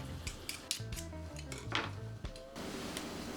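Ginger pressed inside a pot to squeeze out its juice for Jamaican sorrel, giving soft metallic scrapes and clinks against the pot over a steady background hum.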